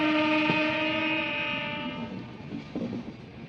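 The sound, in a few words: train at Chhapra junction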